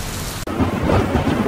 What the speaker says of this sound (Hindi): जंगल में अभी बारिश हो रही है।